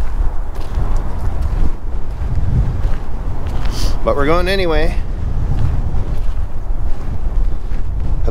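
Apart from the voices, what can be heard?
strong wind blowing on microphone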